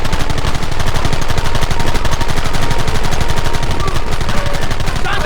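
Rapid gunfire in Red Dead Redemption on PC, a dense, relentless stream of loud shots firing in quick succession, close and sustained across the whole stretch with no pauses.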